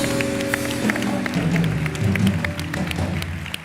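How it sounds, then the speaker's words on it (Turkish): Studio audience applause on the Turkish talk show Beyaz Show, a loud, steady wash of clapping that fills the whole stretch, with sustained music tones underneath. "Bir büyük alkış daha alalım kendisine"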